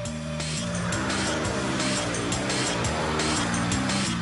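Car swerving through a lane-change handling test on a test track: a loud, continuous engine roar with shifting pitch and bursts of tire noise, close and steady throughout.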